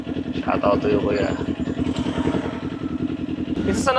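A Kawasaki Ninja 400 engine rumbles steadily up close amid Manila city traffic, with a constant low throb and clattering under continuous background noise.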